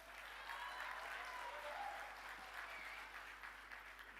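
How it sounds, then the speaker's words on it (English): Graduates at the University of Fort Hare's 2024 spring graduation ceremony, afternoon session, give themselves a big round of applause: dense, steady clapping from a large hall crowd that holds at an even level for the whole stretch. "give yourself a big round of applause"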